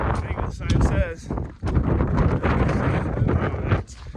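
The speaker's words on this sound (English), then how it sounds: "Some brutal wind, brutal weather." Strong, gusty wind roars into the microphone on the summit of Mount Little Haystack in the White Mountains, loud and buffeting throughout, with a voice speaking over it.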